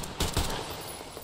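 Kalashnikov rifle fire in the post-apocalyptic shooter Metro Exodus: two quick, loud bursts close together, then a dense, noisy tail that fades over about a second.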